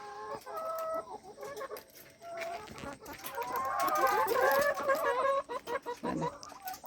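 Domestic hens kept in a backyard coop cluck continuously in overlapping, close-up bursts, rising to a busier, louder flurry in the middle and trailing off into sparse calls near the end, with no talking.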